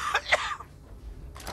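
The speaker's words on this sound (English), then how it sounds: "That cough sounds scary." A character in power armor in the Fallout 4 video game, Nuka-World DLC, gives two short, harsh throat-clearing coughs up close, then goes quiet apart from low background noise and a faint hiss near the end.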